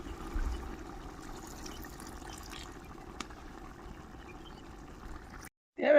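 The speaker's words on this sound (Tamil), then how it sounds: "இப்போ நம்ம கரைச்சி வச்ச புளி தண்ணியை இதில் ஊற்றிக்கலாம்." Tamarind water is poured into a simmering village-style prawn gravy, a steady soft liquid pour and sizzle running for several seconds before cutting off abruptly.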